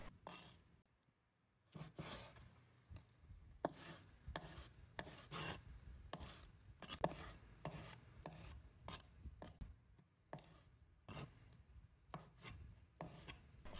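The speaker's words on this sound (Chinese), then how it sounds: "接着根据鱿鱼的大小和纹路下刀，切的时候力度要轻且均匀，避免鱿鱼块碎裂" Knife slicing squid on a cutting board, a steady run of light rasping cuts repeated in quick irregular rhythm, close and fairly quiet, with no talking.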